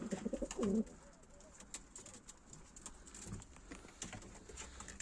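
Pigeons coo in a short burst near the start, a close, loud low warble, then soft bird calls and light patter continue over a quiet background; the birds have a cheesy mouth condition and watery eyes.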